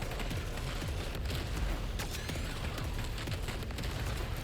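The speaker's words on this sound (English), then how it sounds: "this hand cannon is way better than that assault rifle" Hand cannon gunfire in the video game Saros, a dense continuous barrage of booming shots and mechanical clatter layered over busy game effects, loud and steady throughout with no talk.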